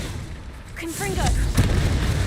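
A fiery blast spell in Hogwarts Legacy combat bursts with a loud booming explosion, swelling into a heavy rumbling crash after a short whooshing cast, with a voice heard during the fight.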